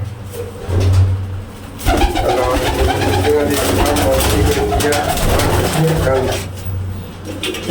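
Pigeons coo steadily in the foreground, low throaty calls repeating under a busy background of chatter and rustling.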